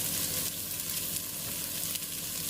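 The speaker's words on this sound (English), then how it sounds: "we're just going to add the onion and the garlic into all them sausage juices" Onion and garlic sizzle steadily in hot sausage juices in a pan, a close, continuous frying hiss with faint crackle throughout and no voices.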